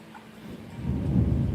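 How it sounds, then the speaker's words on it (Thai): Loud thunder during a thunderstorm in Bangkok, a deep rumble that swells over about a second and stays heavy, with rain hissing underneath. "โอ้โห ฟ้าร้องใหญ่เลยวันนี้"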